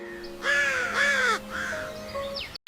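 A crow caws twice in quick succession, loud and close, followed by a softer, longer call, with faint background noise and no voices.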